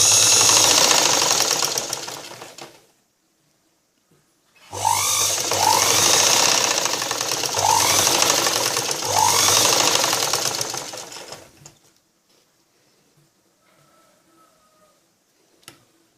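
A sewing machine stitching a blouse, two loud close bursts of rapid mechanical whirring and ticking separated by a short pause, then near silence with faint handling clicks.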